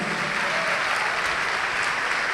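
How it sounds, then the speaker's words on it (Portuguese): A church congregation applauds during a sermon, with dense, even clapping from many hands that fills the whole moment. "Vamos aplaudir o Senhor Jesus por isso."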